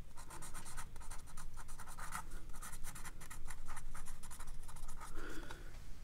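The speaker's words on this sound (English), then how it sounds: "you grab a marker if you want to write Merry Christmas" Marker squeaking and scratching across paper while writing Merry Christmas on a Christmas card, a continuous run of short close strokes with brief pauses between letters.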